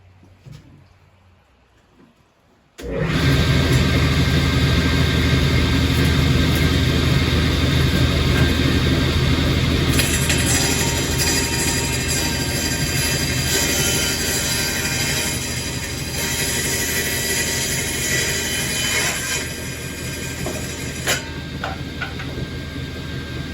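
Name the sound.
old table saw running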